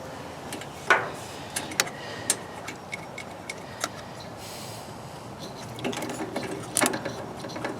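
A spark plug is threaded in and tightened by hand on a Honda GX270 pressure washer engine, giving faint scattered metallic clicks and ratchet-like ticks over a quiet background.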